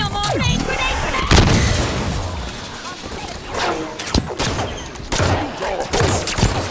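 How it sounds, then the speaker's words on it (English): Grenades burst amid gunfire in the sci-fi shooter Halo 5: Guardians, with loud repeated blasts and rapid shots across a busy battle, and voices shouting over the combat. "Grenade, grenade, grenade!"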